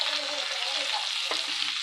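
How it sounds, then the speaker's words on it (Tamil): Tomatoes sautéing with onion and garlic in a pan, a close, dense sizzle broken by one quick stir. "வெங்காயம் பூண்டு நல்லா வதங்கி வந்திருக்கு."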